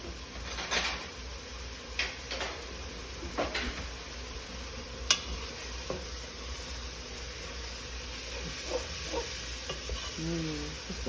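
Chili made with 80-20 ground beef simmers in a pot, a low, soft bubbling sizzle with sporadic spoon clinks and scrapes against the pot, fairly quiet and without speech.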